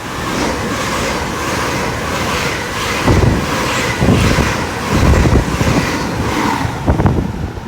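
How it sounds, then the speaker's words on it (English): A passenger train from Penzance to London Paddington runs through a station at Marsh Barton, a broad rushing roar with wind buffeting and surges of rumbling wheel noise as it passes close by. "service from Penzance to London Paddington coming through"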